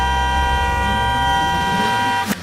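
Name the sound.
car horn honking sound effect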